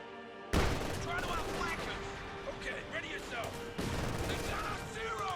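Rattling small-arms and machine-gun fire from a Company of Heroes 2 battle, with German forces fighting American troops. The bursts pile into a dense, continuous barrage that jumps louder midway, under a commentator's steady talk.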